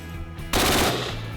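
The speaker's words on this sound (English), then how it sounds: "Sometimes they shoot cars to test the armor on special police vehicles." Gunfire strikes an armored police car during an armor test, a sudden loud burst of rapid shots starting midway after a quieter lead-in.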